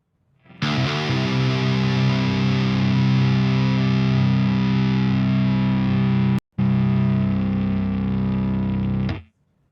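A live guitar with brand new strings plays an original song through heavy distortion, ringing as one loud sustained chord that cuts out for a split second before it stops abruptly.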